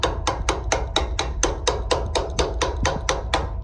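Steady, evenly spaced metallic taps, about a dozen in a row, sharp and close, tapping around the edge of a front wheel bearing on a Yamaha Wolverine 350 ATV, with no talking.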